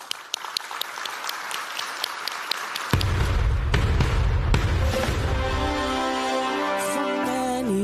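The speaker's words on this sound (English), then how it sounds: "Let's give her a round of applause." Scattered applause rises from the audience at a CARICOM Heads of Government meeting as a gospel singer takes the stage; after about three seconds, sustained music and singing enter and carry on under the fading clapping.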